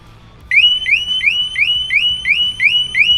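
A motorcycle security alarm on a Harley-Davidson with Hogtunes Wild Boar audio goes off after a moment of quiet, whooping in a steady repeating series of about eight rising electronic chirps, loud and close with no talking.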